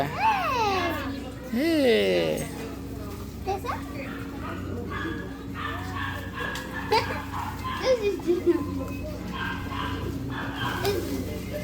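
Dogs in a pet shop in Belgium yip, whimper and bark close by while children chatter and play, with adult voices mixed in; high-pitched yelps stand out early, then short barks and squeals continue under talk.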